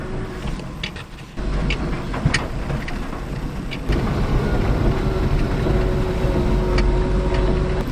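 Mini truck driving outdoors in cold weather, its engine giving a steady, loud rumble and drone throughout with some road and wind noise, and no talking.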